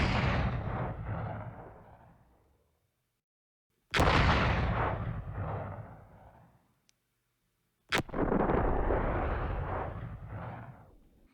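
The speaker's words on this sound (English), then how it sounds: "Now let's make one explosion in the back." Explosion sound effects from the Krotos Studio Genesis sound pack, three separate loud booms, each with a sharp onset and a long roaring decay, separated by silence.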